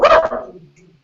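A small puppy lets out a single sharp, loud bark at someone passing by the front door, close and brief, with a quick fading tail.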